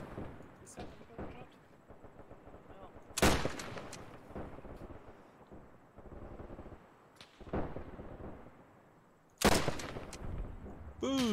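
Sharp gunshots from a video game war shooter set in the Arab-Israeli War, with a few loud cracks standing out over quieter background firing and someone talking between them.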